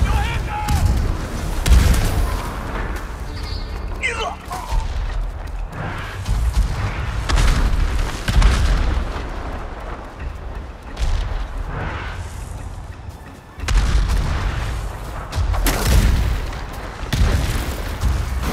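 Explosions and gunfire in the Ghost of Tsushima video game on Iki Island, heavy booms and bursts of shots rolling throughout, loud and close, with shouting voices over the battle.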